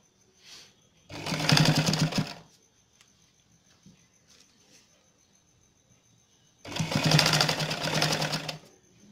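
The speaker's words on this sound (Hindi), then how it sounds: "हम सिलाई करते चले जाते हैं" An electric sewing machine stitching hosiery fabric with a thin paper strip laid along the seam, in two loud close bursts of rapid whirring, each about a second long, separated by near-quiet.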